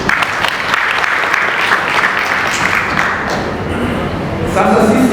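Sustained loud applause from a seated audience at a pension scheme annual general meeting, dense clapping over several seconds with a swell near the end and voices mixed in.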